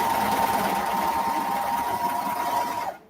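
A sewing machine stitches fabric for a sewing tutorial, running as a close, loud, steady motor hum with rapid needle chatter for about three seconds before stopping abruptly.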